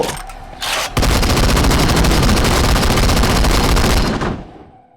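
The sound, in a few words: gunshots in the video game Into the Dead 2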